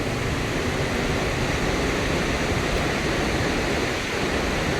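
Burney Falls in California pours into its pool, heard up close from the foot of the falls as a loud, constant, broadband roar of crashing water with no voices.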